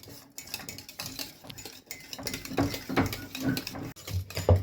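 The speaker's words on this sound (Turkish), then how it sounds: "Bir paket vanilya, bir kaşık tereyağını verip Yağımız eriyene kadar karıştırıyoruz muhallebimizi" A spoon scraping and stirring through thick vanilla custard with butter in a pot, a steady, close, rhythmic ratcheting rub with no talk.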